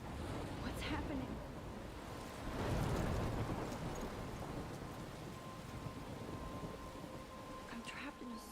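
A storm in the Life is Strange video game: steady heavy rain with a swelling low thunder rumble near the middle, and a voice speaking over it.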